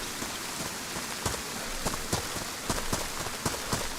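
Rain in the survival video game DayZ, a steady hiss of falling rain with scattered sharper drop taps and light thuds throughout, even and moderately faint.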